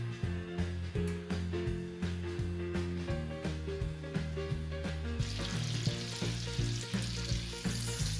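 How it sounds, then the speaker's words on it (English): Three Nathan's hot dogs fry in a pan with a steady sizzle and crackle, joined by rhythmic clinks and scrapes as they are moved about. The sizzling grows brighter and louder toward the end. "So far, they are frying perfectly."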